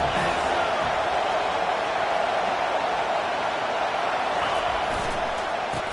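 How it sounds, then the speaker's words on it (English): A stadium crowd roars in a college football video game, a steady, dense wall of cheering noise that holds at the same level throughout, with an announcer's voice faintly mixed in. "This crowd bringing an ear-splitting welcome to their visitors."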